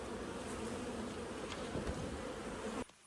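Honey bees, many of them foragers crowding a hive entrance, give off a dense, steady buzz close by that continues unbroken, then suddenly drops away at the very end.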